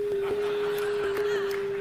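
Electronic eye device tone for a dirty yellow sock: one steady, sustained pure pitch held throughout, moderately loud, with faint background room noise and soft clicks.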